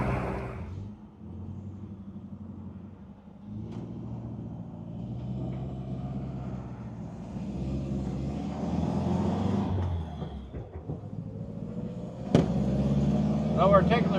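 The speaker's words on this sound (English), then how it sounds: "we're taking the Metropolitan out for a tour down the road so you can see it run and drive" A 1959 Nash Metropolitan convertible driving down a road, its engine a low steady rumble that builds as it moves, with someone talking over it throughout.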